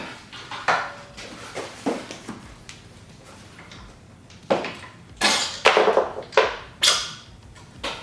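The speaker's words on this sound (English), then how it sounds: "Just going to slightly tap this with a mallet." Sharp metallic knocks from a mallet tapping a 44-tooth rear sprocket loose from the hub of a Talaria XXX electric dirt bike, about nine scattered taps, the later ones louder and ringing brighter.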